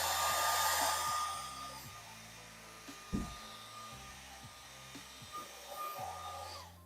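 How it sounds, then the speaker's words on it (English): Hair dryer blowing over fresh spray paint on a painting, a steady airy whoosh that starts loud and eases to a softer, continuous hum, with small clicks and knocks from handling. "just give it the quick hair dryer"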